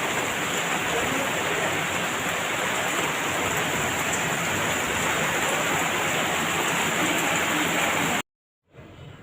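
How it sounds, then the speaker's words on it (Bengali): Heavy rain pours down outdoors as a dense, loud, continuous hiss and patter that stops abruptly near the end, leaving near silence. "দেখছি একদম অন্ধকার হয়ে এই যে খুব জোরে নেমে গেছে বৃষ্টি।"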